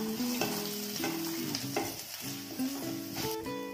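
Dried chillies, ginger and garlic fry in a pan with a steady, close sizzle and stirring, mixed with stepped, tuneful tones like background music.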